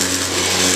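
A car engine runs on its own at a slow, steady idle, a close, continuous hum with no voices over it.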